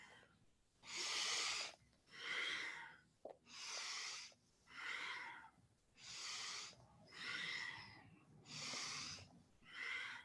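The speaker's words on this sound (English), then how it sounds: "Start to charge up the breath and cultivate that Ujjayi breath if you're familiar." Deep Ujjayi breathing in a yoga practice, with seven or eight slow, loud, airy breath cycles in a steady rhythm, each long whooshing inhale or exhale close up and separated by brief quiet pauses.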